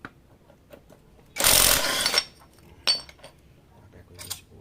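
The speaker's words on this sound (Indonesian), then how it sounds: "ini baut tusuknya penutup rantai keteng ini kita lepas dulu pakai kunci 10 ya." A 10 mm wrench loosens the cam chain cover bolts on a Honda Supra Fit motorcycle engine being stripped down for a rough-running fault. A close metallic ratcheting burst is followed by a few sharp clicks and light tool taps in a quiet room.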